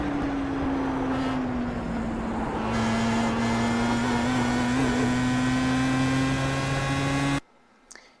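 Pro Mazda race car at Imola in a racing simulator, a loud steady engine drone with a rising tone partway through and a shift in pitch, ending abruptly in near silence.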